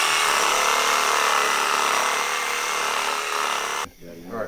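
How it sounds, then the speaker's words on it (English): A Sawzall reciprocating saw cuts through a deer carcass, a loud, close, steady buzzing grind that stops abruptly near the end, followed by a short burst of talk. "Did we find a nice blade for that Sawzall, Mike?"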